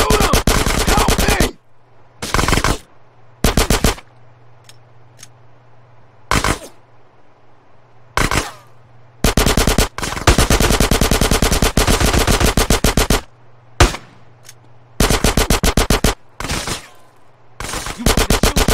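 Automatic gunfire in GTA San Andreas during the final mission, End of the Line: loud, close bursts of machine-gun fire that repeat again and again with short silent gaps between them.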